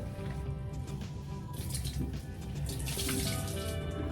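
Tap water runs steadily into a sink as soapy vintage Rainbow Brite plush toys are rinsed, a continuous close splashing rush with some heavier gushes partway through.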